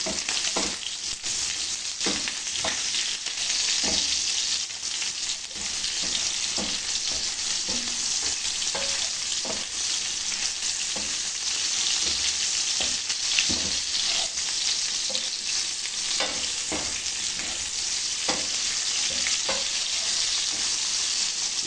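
Chicken curry frying in a pan, with a steady broadband sizzle and repeated sharp scrapes and clinks of a utensil stirring it, loud and close throughout with no talking.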